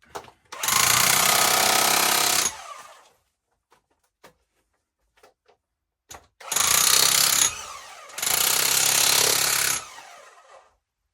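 A jackhammer breaks into a rock wall inside an opal mine, chasing seams. It runs in three loud, close bursts of about two seconds each, with quiet pauses and small knocks between them.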